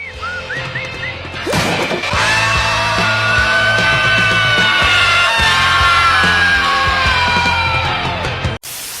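A loud, drawn-out scream from the film Phantom of the Paradise, held for several seconds over a dense, crashing backdrop after a short yelp, then cut off sharply near the end.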